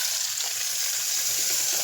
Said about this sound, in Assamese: তাৰে মাছ ভাজি আছে